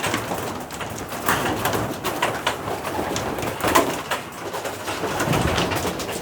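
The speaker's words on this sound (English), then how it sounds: "I'd really like to get these group of pigeons. Here they come." A flock of young loft pigeons around a loft, with cooing and wing flutters repeating over steady outdoor background noise, close and moderately loud, no talk.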